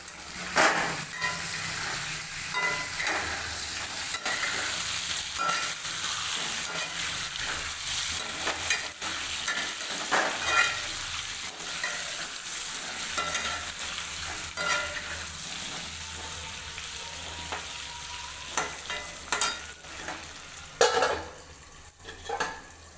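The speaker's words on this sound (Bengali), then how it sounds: "আলুটাকে চাপা দিয়ে দিয়ে ভালো করে লাল লাল করে ভেজে নেব।" Potatoes seasoned with turmeric and salt fry in oil in a pan for a Bengali lunch, pressed and stirred often, giving steady close sizzling with frequent scraping and clinking of the utensil.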